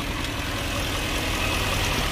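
A 2005 Lexus LS430 engine idles steadily after an engine ground fault repair, a constant, even rumble close by with no talking.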